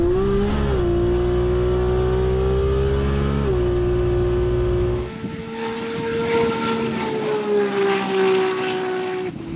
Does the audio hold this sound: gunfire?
no